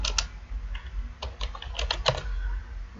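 Keys clack on a computer keyboard as a username is entered into a VPN connection prompt on Windows Server 2016, a quick run of close, crisp taps with short pauses between bursts and no talking.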